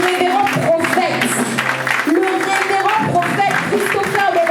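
A church congregation at a Sunday service applauds and cheers. Clapping and shouting are mixed with voices and music, and the sound stays loud and busy throughout.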